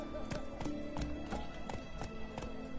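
Roach, Geralt's horse in The Witcher 3 video game, gallops with a rhythmic clip-clop of hooves, evenly spaced thuds repeating about three times a second over faint background game ambience.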